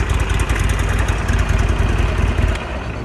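A 2009 Buell XB12SS Lightning streetfighter's V-twin engine idles close by with a steady, lumpy low throb that drops slightly in level near the end.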